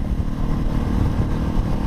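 A Honda CB500X motorcycle engine rumbles steadily at a low, loud idle-like throb, close and continuous for a couple of seconds with no talking.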